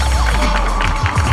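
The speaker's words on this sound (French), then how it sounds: "Il mérite des applaudissements" An audience at a northern Cameroon athletics event applauds a gold-medal athlete, with dense steady clapping and crowd noise filling the whole moment.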